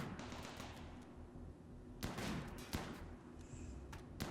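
Sniper rifle fire in the colony game RimWorld, a few sharp separate gunshots spaced apart over quiet background ambience, with no talking.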